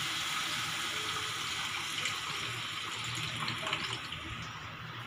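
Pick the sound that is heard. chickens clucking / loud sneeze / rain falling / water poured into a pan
water poured into a pan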